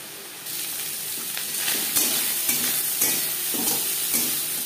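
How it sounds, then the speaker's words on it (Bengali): Shrimp frying lightly in a pan, a steady sizzle with soft stirring scrapes that builds after the first half second and continues with a few clicks and knocks. "মাছ হালকা করে ভেজে নেব।"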